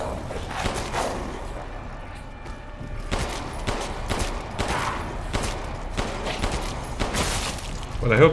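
Gunfire in Resident Evil Village during a hardcore stronghold ambush, a string of sharp, fairly close shots spaced across the clip over a busy game soundscape.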